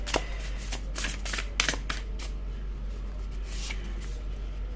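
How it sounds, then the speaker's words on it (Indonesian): Tarot cards shuffled by hand in quick bursts of riffling and slapping, several separate shuffles over a steady faint background hiss, close and fairly quiet with no talking. "Aku shuffle lagi deh"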